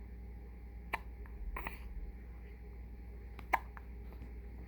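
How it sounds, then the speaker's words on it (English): A person hiccups twice, short sharp catches of breath several seconds apart, close by in a quiet room with a low steady hum underneath. "You have the hiccups?"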